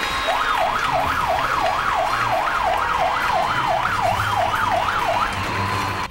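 A wailing siren sound effect on a televised game show, its pitch sweeping up and down about a dozen times in a steady, loud rhythm over a low background.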